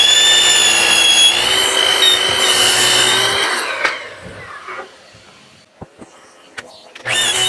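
A power tool whines loudly making rough cuts of wooden slats from a 4x8 sheet, running steadily for a few seconds before spinning down, followed by scattered knocks and handling thumps, then a brief restart.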